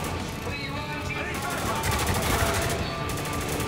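Rapid video-game gunfire sprays continuously from Spec Ops: The Line, a dense, loud rattle of shots with a shotgun in the mix, running the whole time under a speaking voice.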